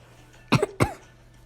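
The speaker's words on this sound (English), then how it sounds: "People are always coughing in these games." Two short, sharp coughs in quick succession from the video game Plague Inc, fairly close and isolated against a quiet background.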